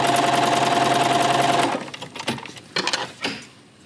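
Sewing machine stitching one seam of a log cabin quilt block, a loud steady mechanical whir for about two seconds, then stopping into a few softer handling clunks and fabric rustles.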